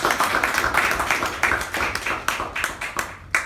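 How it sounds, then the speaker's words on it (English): At a Toastmasters club meeting, a small group claps in uneven bursts, individual hand claps clearly audible and tapering off toward the end. "A round of applause."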